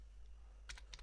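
A few quick computer keyboard keystrokes, a short burst of clicky taps late in the moment, close and fairly faint over a quiet room hum.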